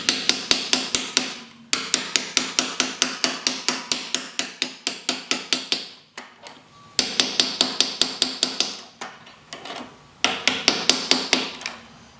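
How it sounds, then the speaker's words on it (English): A hammer drives a new seal onto a BMW ZF320 transmission case through a deep well socket, making a long series of sharp metallic strikes in steady bursts with short pauses, close and loud. "And you're just going to take a hammer"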